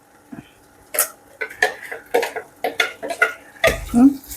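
Ground spice paste being scraped and dropped into a cooking pan, with clinking metal utensil and pot sounds, irregular scrapes and knocks at close range, no talk.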